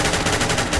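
Gunfire in the video game SCP: Secret Laboratory, a steady run of rapid shots filling the whole short moment, loud and close with no talk over it.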